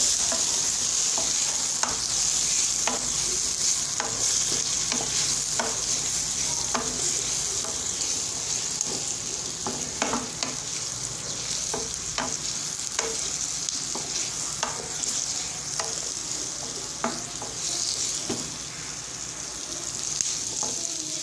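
Onion and garlic frying in a pan, a continuous close sizzle broken by frequent scraping stirs and light utensil taps that recur throughout.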